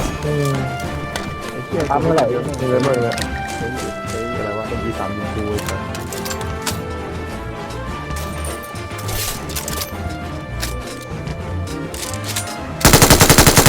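Rapid automatic gunfire from the mobile battle royale game PUBG Mobile, loud bursts and single shots repeating throughout under constant excited voices, with a harsh blast of fire near the end.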